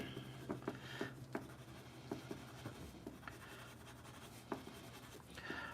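Colored pencil scratches and strokes across paper during live drawing, quiet, close and uneven, with light taps and scribbles and no voices.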